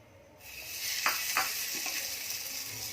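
Oil poured onto hot charcoal set in a pot of keema for dum smoke bursts into a sudden loud hiss that holds steady, with a couple of sharp crackles near the start.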